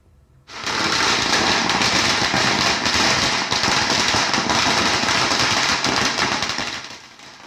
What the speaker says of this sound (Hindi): दिवाली की शाम जिस तरह से पटाखे जले